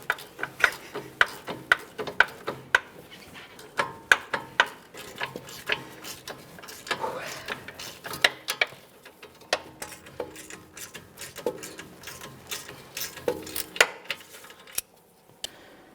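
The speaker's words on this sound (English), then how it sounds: "to loosen this, I'm going to be turning the stud clockwise, which will in turn turn the nut counterclockwise" A strut stud being turned with a ratcheting tool to loosen the mounting nut on a 2015-2019 Subaru Outback front strut, rapid metallic ticking clicks in bursts, close and crisp, with brief pauses.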